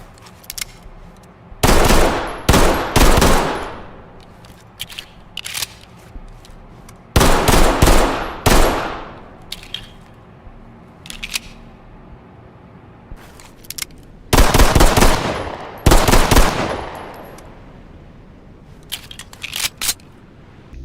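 Three loud bursts of rapid M45A1 pistol gunfire in the video game Ready or Not, each a quick string of sharp shots with ringing tails, separated by brief pauses.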